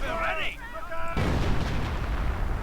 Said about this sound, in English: Artillery going in and a full retreat right there from 6th Troops getting suppressed right here.